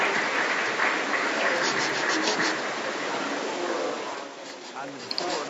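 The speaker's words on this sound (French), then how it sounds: "Nous allons applaudir le ministre et nos conférencières." Conference audience at an agribusiness value chain session applauds the minister and speakers: a dense, sustained wash of many hands clapping in a large room, fairly even and then tapering slightly toward the end.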